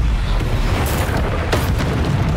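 A fiery Confringo spell explosion from the video game Hogwarts Legacy lands as a deep, rumbling boom with crackling bursts layered over it, loud and sustained for a couple of seconds.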